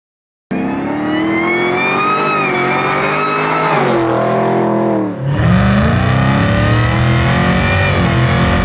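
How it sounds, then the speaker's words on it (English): A 650 hp supercharged LT4 V8 in a 1970 Oldsmobile 442, breathing through stainless headers, rises from idle into a loud, sustained rev, dips briefly, then climbs again with a harsh rasping exhaust note, close and continuous. "The exhaust note tells you everything you need to know."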